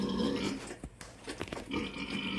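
Close, rough grunting and snorting from pigs, steady through the clip with a brief lull in the middle, no talking.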